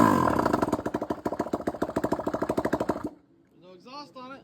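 Engine running with no exhaust fitted after a timing repair, a loud rapid train of sharp pulses for about three seconds before cutting off, followed by a voice speaking.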